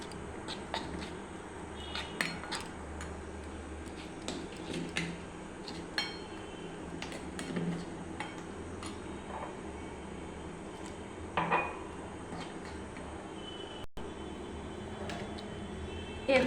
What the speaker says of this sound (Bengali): অল্প অল্প জল দিয়ে নাড়াচাড়া দিতে হবে।